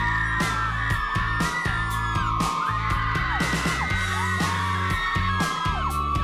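A crowd of excited fans waiting outside a pop duo's concert venue, screaming and whooping continuously with loud shrieks layered over booming music and bangs.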